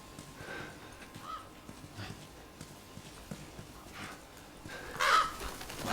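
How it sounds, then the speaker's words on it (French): Crows caw in a zombie video game, with a few scattered calls over a noisy outdoor ambience and a louder burst of cawing near the end. "Il y a des oiseaux."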